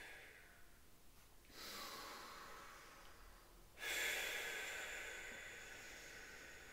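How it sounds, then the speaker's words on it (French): Audible breaths blown out from the belly during a relaxation breathing exercise, two soft airy exhalations close by, the second louder and longer, with no talking. "c'est de bien souffler en faisant du bruit si ça aide."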